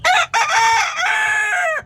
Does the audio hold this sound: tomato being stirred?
no